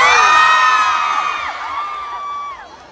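A crowd cheers and whoops loudly, many high voices shouting together, the noise slowly fading over a few seconds.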